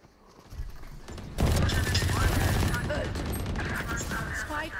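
Gunfire in the tactical shooter Valorant, with bursts of rapid shots and clattering weapon mechanics building up and continuing loudly throughout, while a player's voice can also be heard.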